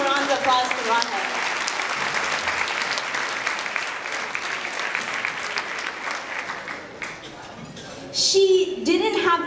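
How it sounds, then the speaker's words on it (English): An audience at a charity gathering in Seattle gives a sustained round of applause, a full, even wash of clapping that thins out near the end as voices start up in the room. "So can we please give a round of applause to Rahel?"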